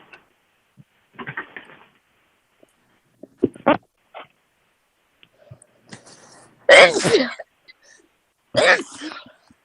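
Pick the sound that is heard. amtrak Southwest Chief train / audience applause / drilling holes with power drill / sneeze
sneeze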